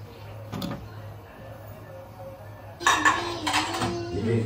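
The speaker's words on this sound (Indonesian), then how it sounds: "Sekarang kita tutup dan kita masak sampai dia mendidih guys." A lid is set down onto a cooking pot of chicken opor on the stove, giving a metallic clatter followed by rattling clanks at close range, with an earlier light clink and low kitchen hum.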